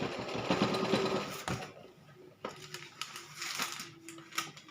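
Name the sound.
sewing machine stitching a fleece child's jacket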